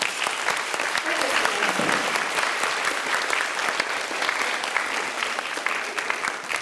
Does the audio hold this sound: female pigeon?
no